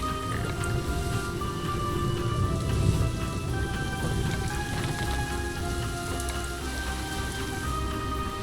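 Steady rain falls in the zoo-building game Planet Zoo, a soft, even hiss that holds throughout with no talking.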